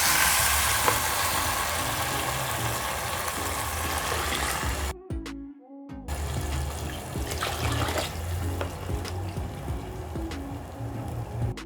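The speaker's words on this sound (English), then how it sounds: "Then I'm going to add 6 cups of water." Six cups of water pour into a pot of mutton biryani, a steady close splashing rush that breaks off briefly midway, then resumes as a continuous trickling flow, no speech.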